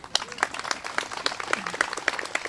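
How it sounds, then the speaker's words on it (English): Audience at a physical therapy assistant pinning ceremony claps briefly, a moderately close patter of hands with scattered individual claps standing out. "yes, you guys can clap"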